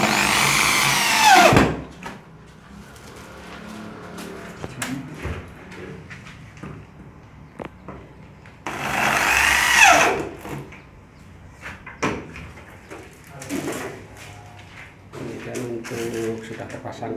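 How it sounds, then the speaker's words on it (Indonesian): A power screwdriver drives screws into the handle of an aluminium casement window in two loud whirring bursts, one short and one longer, separated by quieter handling clatter, while people talk nearby. "Dari luar yang satunya menyekrup, kita pasangkan 4 sekrup pada lubang yang sudah ada."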